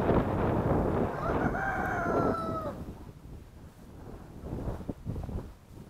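Roosters crowing outdoors, a long loud crow with harmonic rises and falls in the first half, then fainter clucks and rustling against steady wind noise on the microphone.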